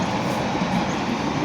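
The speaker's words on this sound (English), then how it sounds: "That train's going to Cardiff." A train rolls past on the railway line toward Cardiff, giving a loud, continuous rumble and rush of wheels on track with no gaps, heard close at hand.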